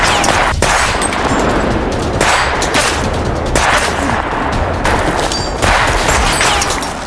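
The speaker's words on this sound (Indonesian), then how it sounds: "Orson dan Hikaru, dengan senjatanya mereka menembaki pasukan tersebut dengan sangat brutal." Dense gunfire in a brutal action film battle scene, rapid overlapping shots and bursts filling the whole stretch with loud, continuous intensity and no speech.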